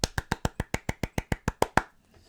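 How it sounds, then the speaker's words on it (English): Twelve sharp hand claps ring out at a steady, even pace, close and crisp, then stop, leaving a short quiet tail with no talk. "I can only hear like 2 claps there."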